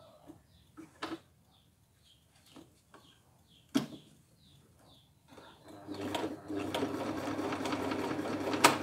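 A sewing machine that had been running without its thread starts up after a few scattered clicks and knocks, then settles into a steady, close mechanical whir for the last few seconds.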